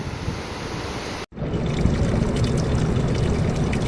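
Water poured over legs outdoors on a High Sierra trail, a steady splashing wash that breaks briefly, then resumes as a fuller continuous pour close to the microphone.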